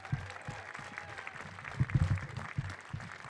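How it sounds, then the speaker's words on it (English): Applause from a crowd at a Mexican Independence Day celebration at the Mexican Museum in San Francisco, a steady wash of clapping under some low murmuring voices. "big round of applause for my Asian brother, Supervisor Eric Marr."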